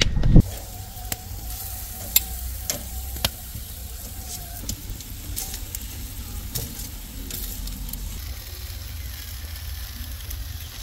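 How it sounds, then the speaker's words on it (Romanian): Tomatoes, onions and peppers frying in a pan, with a low continuous sizzle and scattered sharp clicks and knocks, loudest near the start, close and fairly quiet with no talking. "Roșia o să fritureze un pic mai mult și ceapa."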